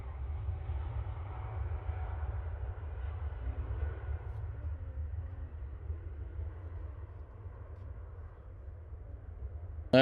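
An airliner takes off from Manchester Airport, bound for Texas. Its steady, deep jet roar rumbles on from a distance without a break, and no one speaks over it.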